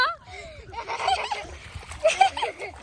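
Water splashing as people bathe in the Jamuna river, with irregular close splashes and sloshing under excited talk and laughter.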